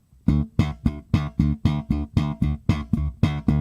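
A bass guitar is slapped with the thumb, about a dozen punchy, percussive notes in an even rhythm, close and solo.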